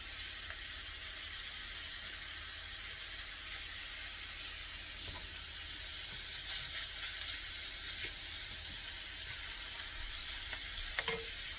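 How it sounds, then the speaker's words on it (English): Hungarian sausages fry in a pan with a steady, dense sizzle that holds level throughout, a few faint clicks surfacing near the end and no voices. "While the sausages are cooking on the first side"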